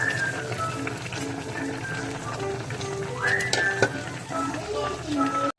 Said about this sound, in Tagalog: So, kumukulo na.